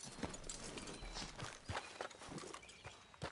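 Horse hooves clip-clop on the ground in the video game Red Dead, a fairly steady walking rhythm of soft thuds close by, with a brief shout in the middle.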